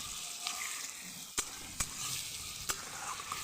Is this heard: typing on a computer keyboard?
no